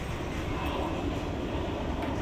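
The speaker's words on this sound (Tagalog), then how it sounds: "Ayan, may malaking eroplano pa, oh." A large airplane passes over the Manila Bay reclamation area, its engines producing a steady, broad roar at moderate distance that holds constant throughout, with open-air wind noise mixed in.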